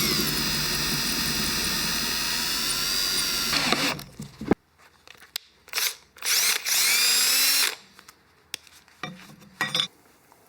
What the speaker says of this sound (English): Now we're ready to start drilling. Now anytime you're drilling stainless, you want to make sure you're using some sort of cutting fluid.